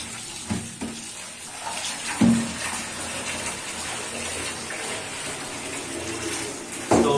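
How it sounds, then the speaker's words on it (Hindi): Tap water runs steadily into a sink while strawberries are washed under it, a continuous close gush with a few brief splashes and clatters as the fruit is handled, and no voices. "अब हम फ्रूट धो लेते हैं।"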